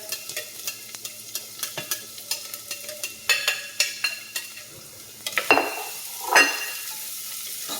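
Garlic sautéing in oil over high heat in a pan: a steady sizzle with regular stirring scrapes, growing louder and busier partway through, then a couple of sharp hissing bursts near the end.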